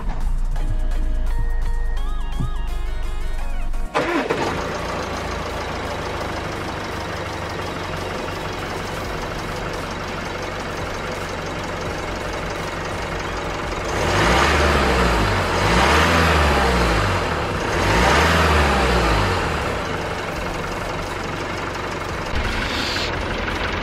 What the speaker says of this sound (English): So there you go, the car is running behind me.